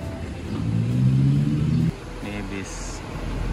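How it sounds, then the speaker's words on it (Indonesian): A Prima Jaya intercity bus bound from Pontianak to Samarinda pulls away, its engine droning loud and steady for about two seconds before dropping to a lower idle, while people chat nearby. "Ini bis Pontianak Prima Jaya jurusan ke Samarinda berangkat teman-teman."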